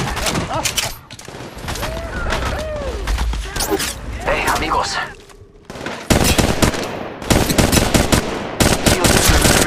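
Rapid automatic gunfire bursts from the mobile battle royale game Apex Legends Mobile, loud and dense, with repeated volleys and a brief lull in the middle, joined by game voice lines and faint talk.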